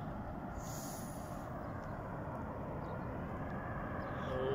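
A low-flying airplane passes overhead, a faint, steady distant rumbling drone that builds slightly louder toward the end, with no talking.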